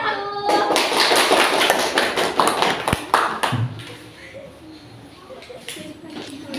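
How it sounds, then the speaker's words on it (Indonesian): A classroom of pupils claps for a group of classmates being called up front, a short burst of hand claps that tapers off into murmuring and room noise. "Tepuk tangan untuk kelompok 1."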